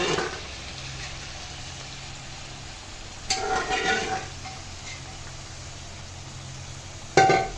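Black dal frying with chicken meat in a pan gives a low, steady sizzle throughout, broken by two louder bursts of scraping and stirring, one partway through and one at the end.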